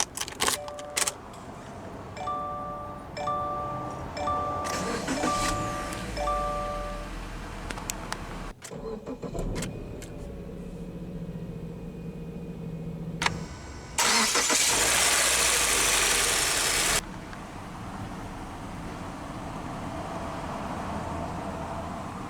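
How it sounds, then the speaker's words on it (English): A 2016 Subaru Legacy 2.5i Premium with its four-cylinder starting up: keys jangle and chimes sound, a burst of cranking catches into a loud rev, then the engine settles into a steady, quiet idle heard close from the cabin. "let's go ahead and start the engine."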